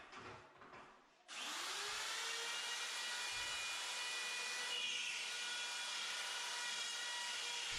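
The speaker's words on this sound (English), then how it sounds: "I'll get my drywall router and cut the holes" A drywall router cuts recessed light holes in a ceiling. After a short quiet start, the high, loud whine spins up and holds steady with a gritty cutting hiss until the end.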